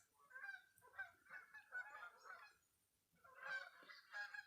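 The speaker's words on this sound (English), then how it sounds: "Can you hear the geese?" Geese honk outside in a faint, distant chorus of repeated nasal calls, coming in two loose bursts with a short lull between.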